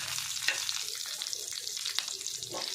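Mackerel masala fry sizzles steadily in oil on a pan, a close, continuous crackle with sharp pops scattered throughout.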